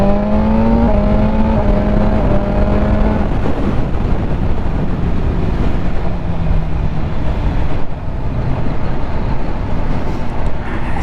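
A BMW M1000R motorcycle engine in race mode roars loud and close, its pitch climbing through repeated throttle pulls before settling into a steady, dense drone with no voices.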